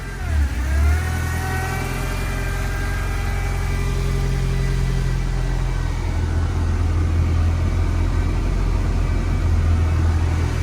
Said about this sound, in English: A little whine is the power steering pump, but the engine itself is nice and smooth.